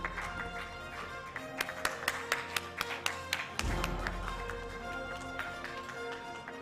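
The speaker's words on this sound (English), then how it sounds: "Please give him a big round of applause for Dr. Rajesh Pandey." A crowd claps at an on-stage felicitation during a medical society celebration, a faint, fairly brief patter of scattered applause that grows into a denser burst.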